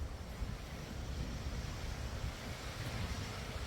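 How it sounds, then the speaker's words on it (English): Strong wind blows steadily through a tree at an eerie spot in the Kelowna area, a continuous loud roaring rush with low gusty rumble and no pauses throughout. "Big wind moving that tree, as you can see right there."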